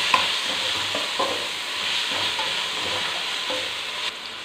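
Shallots, curry leaves and chopped tomatoes sautéing in a pan for sambar, a steady close sizzle with a spoon stirring and scraping in a loose rhythm of soft knocks, no voices.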